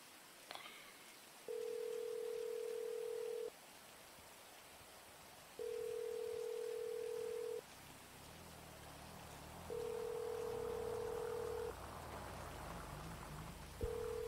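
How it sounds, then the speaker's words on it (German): A ringback tone on a phone call in the GTA 5 roleplay game sounds as four long, evenly spaced steady tones, each about two seconds, over a constant rain-like hiss, with no one speaking. "Ich rufe den an."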